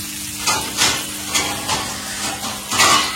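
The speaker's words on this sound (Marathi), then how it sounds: "एकदम झणझणीत मच्छी फ्राय इकडे सुरू आहे" Fish fry sizzling in a pan, village-style cooking, with several bursts of hissing and spattering over a low steady hum, close by and without speech.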